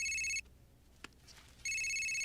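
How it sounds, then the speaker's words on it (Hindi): A phone rings with a bright electronic ringtone in two bursts separated by a quiet gap, loud and close, with no talk over it. "पापा का फोन आया"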